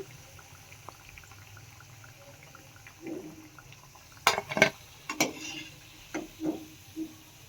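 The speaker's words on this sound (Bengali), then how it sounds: "এবারে ভালো করে তেল ঝরিয়ে তুলে নিচ্ছি" Fried pitha is lifted out of oil and left to drain, giving sharp metallic clinks and scrapes of utensil against pan, plus a few soft liquid drips, over a quiet room hum with no speech.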